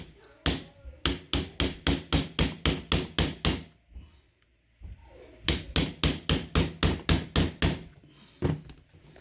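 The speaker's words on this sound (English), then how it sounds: "I'm going to give it some more good solid whacks and" Hammer blows driving an XS Big Dot sight onto an LC9s pistol, two bursts of about ten sharp, evenly spaced metallic whacks, separated by a short pause, then one final hit, loud and close.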